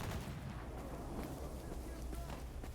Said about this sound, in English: there's a lot of gunfire going on right now